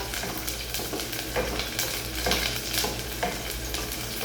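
Sardines fry in hot cooking oil with a continuous close sizzle, while oil spits and splatters in bursts of crackling pops.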